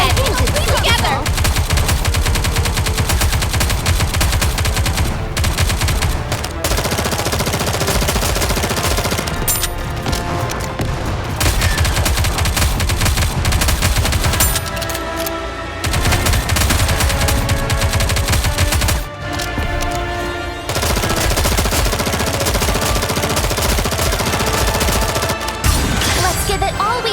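Gunfire in the mobile game Nikke: Goddess of Victory, with dense, continuous rapid machine-gun bursts at high volume that barely pause, layered with music and occasional voices talking.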